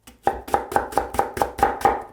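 A knife chops water dropwort (minari) on a cutting board for napa cabbage kimchi, making eight even, close thuds in a quick steady rhythm with nothing else heard.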